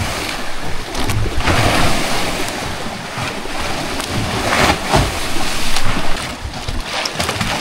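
Rough sea waves slap against a small wooden outrigger boat heading out from an island. Heavy surf and wind noise fill the recording, with repeated loud crashes and a constant rushing roar. No voices are heard.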